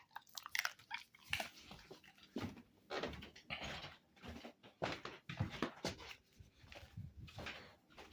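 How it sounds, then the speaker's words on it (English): An elderly dog bites and chews hard on a piece of food, giving a string of close, loud crunching and snapping bursts with short pauses between them. "This is the ferocity of a 100-year-old dog. Not quite biting through it."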